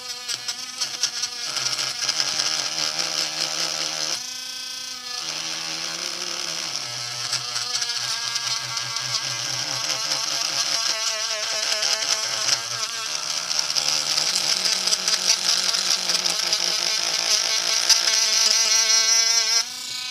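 A small high-pitched rotary drill with a polishing head whines steadily while buffing a scale-model part, its buzzing pitch rising and dipping slightly, close and continuous.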